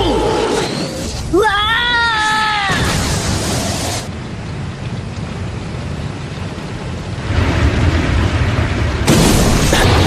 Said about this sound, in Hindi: Fire style dragon flame jutsu.